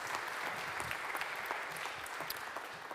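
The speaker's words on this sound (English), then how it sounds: "Give Kelly a round of applause, please." Applause from a conference audience at a regulatory science and policy panel, a steady dense patter of many hands clapping at moderate volume, sustained evenly throughout without voices.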